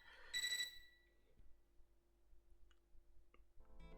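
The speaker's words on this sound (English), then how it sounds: "I woke up to a ringing sound like an alarm clock" A ringing alert like an alarm clock signals an incoming call in the Fate/Extra CCC video game: a short bright electronic ring near the start, followed by quiet background hum and a few faint clicks, with another tone starting at the very end.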